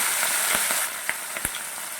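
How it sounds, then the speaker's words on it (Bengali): Fish drop into hot oil in a wok and set off a dense, close sizzle. Sharp crackles and pops break through it, and the frying settles into a steady hiss. "এবার মাছগুলা দিয়ে দিচ্ছি।"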